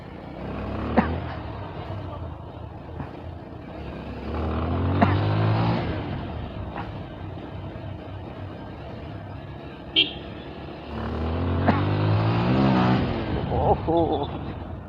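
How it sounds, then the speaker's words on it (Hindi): Night road traffic on a narrow main-town street in Diphu, with vehicles passing in two swelling waves and a brief horn-like tone between them, while a person talks over it. "ओहो ट्रैफिक ट्रैफिक है रे।"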